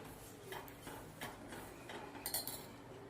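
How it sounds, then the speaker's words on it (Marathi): A spoon clinks and scrapes around a bowl while custard powder mixture is stirred, a few faint metallic ticks at irregular intervals, close but quiet, with no talking. "हलवून घेऊया, कारण का कस्टर्ड पावडर ही खाली चिकटली जाते।"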